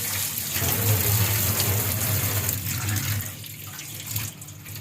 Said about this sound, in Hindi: ये देखिए ये जो हम तोड़ के लाए हैं ना वो हम धोएंगे।